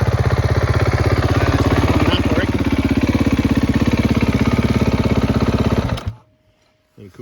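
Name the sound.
engine running at idle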